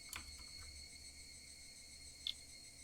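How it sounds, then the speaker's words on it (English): Cicadas in the Higurashi: When They Cry video game drone with a faint, steady high-pitched buzz, with a few soft clicks over low background noise. "Only the cry of cicadas remained, annoyingly loud."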